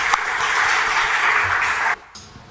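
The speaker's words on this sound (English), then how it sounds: "please help me welcome them on the stage with a huge round of applause" A startup event audience applauds as speakers are welcomed on stage, with dense, steady clapping for about two seconds before it cuts off abruptly into quieter room sound.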